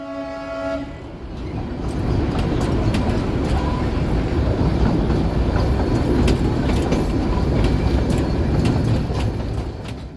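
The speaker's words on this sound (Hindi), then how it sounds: "बहुत पुराने पुल से ट्रेन गुजर रही है।" The Darjeeling toy train rumbles across a very old bridge in the hills, its horn tooting briefly at the start. Steady, loud rolling clatter of wheels on rails follows, close by and continuous.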